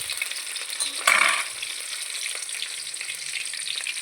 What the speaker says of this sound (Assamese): সেই তেলতে মই পিঁয়াজ আৰু তেজপাত, জলকীয়াখিনি অলপ কালাৰ উঠাকৈ ভাজি ল'ম।